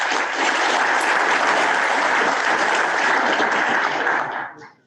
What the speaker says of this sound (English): Please join me in giving these partners a round of applause.